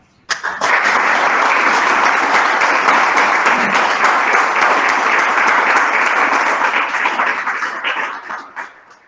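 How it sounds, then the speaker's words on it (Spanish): An audience at an educational lecture event breaks into loud, thick applause that starts abruptly, sustains at full strength for several seconds, then thins and fades out toward the end. "renovamos el aplauso"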